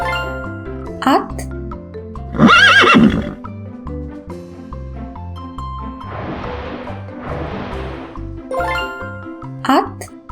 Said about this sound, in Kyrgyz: Ат.